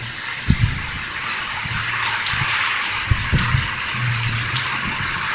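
Floodwater rushes steadily past a building in a loud, continuous wash, broken by a few dull knocks and splashes.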